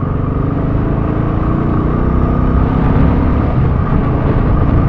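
A Royal Enfield Classic 350 motorcycle ridden on the road, its single-cylinder engine giving a steady, loud, low thump under constant wind rush with no break throughout.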